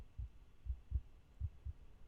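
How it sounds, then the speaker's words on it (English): A panic-attack heartbeat in a video game thumps low and quiet in a steady, slightly uneven pulse, about five beats over a soft hum. "Oh, this is heartbeat. He's having a panic attack."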